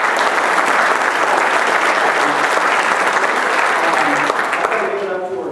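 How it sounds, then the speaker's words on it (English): Dense, loud applause from an audience honoring a board member at a Federal Reserve session, steady and sustained throughout before tapering slightly at the end. "Let's give him a round of applause."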